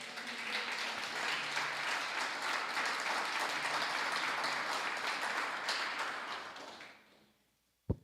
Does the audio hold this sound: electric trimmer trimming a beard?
no